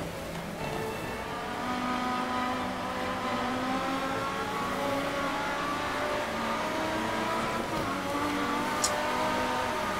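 A rally car driven on snow at night in Dirt 3, engine humming steadily with shifting revs and a faint tire squeal, continuous and fairly loud with no voices.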